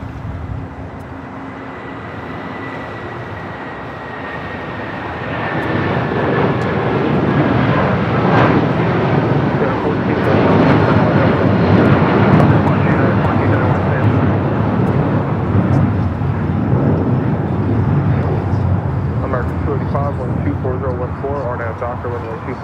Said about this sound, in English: It's an A330 Neo, flight 9964, possibly a sports charter.